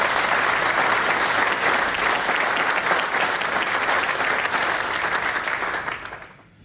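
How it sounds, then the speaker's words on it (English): An audience at a Safety Charter signatories event claps in sustained, dense applause for several seconds, then tapers off toward the end; no one speaks over it. "So can we please give a big round of applause to Duncan."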